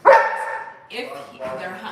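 A dog barks loudly once up close, followed by a couple of softer yips and whimpering sounds, with people talking around it.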